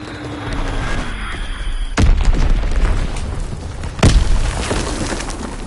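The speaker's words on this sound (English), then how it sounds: "Enemy bomb incoming." Two heavy bomb blasts erupt in a PS4 multiplayer war game, each a sudden loud boom with a rumbling tail, spaced about two seconds apart over a low battlefield drone and faint scattered effects.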